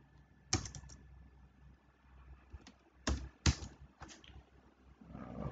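Several scattered key presses on a computer keyboard while code is typed, a few separate clicks and short bursts spread over a quiet room background.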